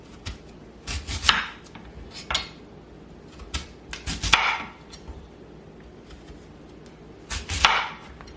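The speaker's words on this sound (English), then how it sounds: "Now you want to cut them in about half-inch slices" A knife slicing potatoes into half-inch rounds on a cutting board gives sharp chopping knocks in loose clusters, some close together and some separated by pauses, loud and close with no talk.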